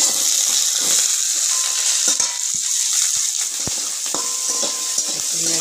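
Green chillies and chopped onion frying in a pan for a mixed-vegetable chorchori, a steady bright sizzle with small clinks and stirring scrapes throughout.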